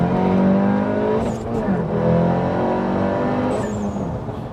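A tuned Audi RS1 with 330 hp and 500 Nm accelerates hard, its engine roaring loud and close from inside the car, pitch climbing with a brief drop between gears.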